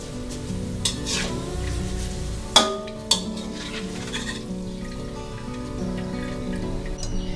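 Oil sizzles and bubbles steadily as chicken deep fries, with two sharp knocks cutting through partway, over background music.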